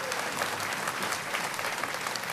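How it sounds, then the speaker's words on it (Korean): Audience applause after a band and cheerleading performance at a department store's opening anniversary ceremony, steady dense clapping from a crowd at a moderate level with no voices over it. "큰 박수 부탁드리겠습니다"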